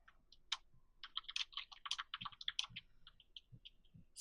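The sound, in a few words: typing on a computer keyboard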